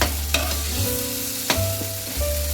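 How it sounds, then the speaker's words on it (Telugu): Green chilli paste frying in hot oil in a pan, a steady soft sizzle with a few sharp clicks of a spoon stirring it, close and alone with no talk. "ఈ పేస్ట్ చేసుకున్న మిశ్రమాన్ని ఈ ఆయిల్లో ఇలాగా వేయించుకోవాలి కొంచెం సేపు"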